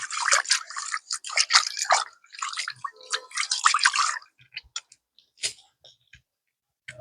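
Water splashes and pours while a cooking pot is rinsed out, several bursts of running and sloshing water followed by scattered drips and light clinks, close and fairly loud with no talking.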